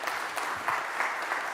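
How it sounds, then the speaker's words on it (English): Brief, dense audience applause at a business congress fills the room as a steady patter of many hands, close and fairly loud, with no pauses. "we should give you a round of applause"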